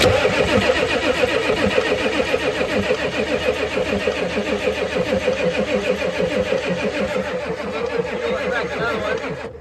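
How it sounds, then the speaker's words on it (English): A 1988 Ford F350 with a 7.3 IDI diesel cranks over continuously on the starter, a steady rhythmic churning that stays loud and close for the whole stretch with no talking. "we're gonna go ahead and keep cranking this thing over until we can hopefully get some fuel out of it"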